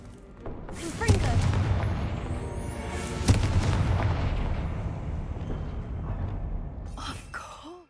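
Confringo fire spell detonations in Hogwarts Legacy: heavy booming blasts with sharp cracks near the start and middle, rumbling on at length before fading, with a voice heard over the noise.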